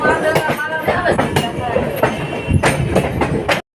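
Diesel train crossing the Amritsar Saharsa Garib Rath Express, a steady rumble with rhythmic wheel clatter and passing carriages, loud and close throughout before cutting off abruptly.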